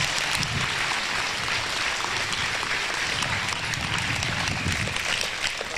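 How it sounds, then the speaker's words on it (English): An audience at a livestock show market hog event claps for the youth exhibitors, a loud sustained wash of applause from a large crowd in an arena, continuous throughout with faint voices mixed in. "Let's give all the kids a round of applause,"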